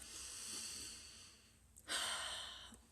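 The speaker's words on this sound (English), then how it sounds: "So take a deep breath" A single deep breath, a quiet drawn-in inhale followed by a short, sharper airy rush of breath near the end, close and faint with no talk.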